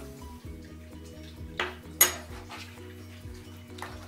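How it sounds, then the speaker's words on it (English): Butter knives cut shortening into a bowl of flour and salt for empanada dough, giving scattered metallic scrapes and a couple of sharper clinks over a low, steady background hum. "we're going to cut the shortening into the flour and salt mixture. For that, we're going to use a couple of butter knives"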